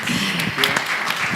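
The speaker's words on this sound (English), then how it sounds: "A round of applause to Comau." Brief burst of audience applause at a corporate design-awards event honoring Comau, a dense steady patter of many hands with voices mixed in throughout.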